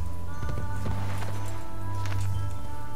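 Horse hooves clip-clop in Assassin's Creed Brotherhood, a steady run of hoofbeats under continuous game ambience with a low droning hum, fairly close and moderately loud.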